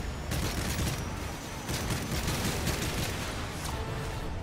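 A light machine gun fires sustained, dense bursts in Modern Warfare 3 survival mode on the Bakaara map, loud and continuous with a constant rattling roar throughout.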